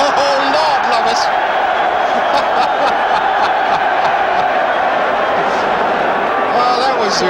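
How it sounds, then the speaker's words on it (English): A large football crowd roars and cheers through a 1974 West Ham versus Orient match, sustained and swelling, under a commentator's voice. "The crowd loved it."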